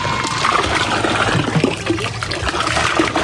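Water is pumped and sprayed over laundry at a rural home, a steady close hiss of running, splashing water that continues throughout with no voices.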